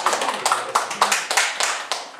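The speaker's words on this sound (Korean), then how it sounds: "박수로" A small congregation claps in a steady, quick rhythm during a church service welcoming a visitor, the sharp hand claps close and fairly loud, with no talking over them.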